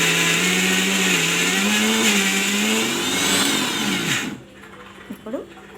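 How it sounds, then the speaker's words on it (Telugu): A kitchen mixer grinder whirs loudly and steadily, its motor pitch wavering as it runs, then cuts off abruptly, leaving a quiet room with a couple of faint knocks. "ఇంకొకసారి మళ్ళీ మిక్సీ వేసుకుందాం"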